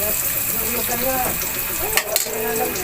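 Garlic frying in a pan for squid and shrimp adobo, a steady bright sizzle with stirring scrapes and a couple of sharp clinks near the end.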